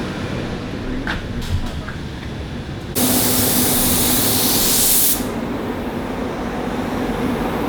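A steady, loud hiss of a paint spray gun at about 25 PSI in a spray booth bursts in for about two seconds, then cuts off, leaving a low background hum.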